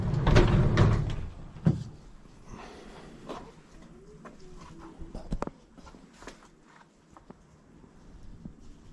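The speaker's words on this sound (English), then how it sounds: "Roll the door up." A roll-up door rattles and clatters as it is raised, loud at first, then a series of lighter knocks and creaks fading as it settles open in a loft workshop.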